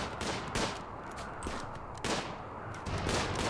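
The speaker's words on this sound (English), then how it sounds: "we're getting some good shots off right now" Colonists fire guns in the video game RimWorld, a quick run of sharp, moderately faint shots and bursts crackling over a noisy background.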